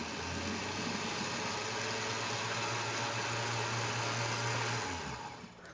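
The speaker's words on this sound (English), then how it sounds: "puree it in your blender." A blender purees cooked raspberries for a cake filling, giving a loud, steady motor whir that holds for about five seconds, then winds down and stops near the end.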